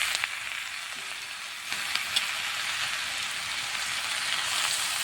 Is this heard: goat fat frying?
yes